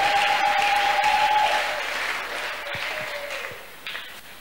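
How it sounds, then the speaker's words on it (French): A church congregation applauding during a sermon, a steady wash of clapping that starts strong and gradually thins and fades, with a faint sustained tone running beneath it. "Nous acclamons pour cette parole"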